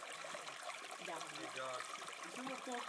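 Running water of a creek with a soft continuous trickle and gurgle close by, mixed with voices talking over it.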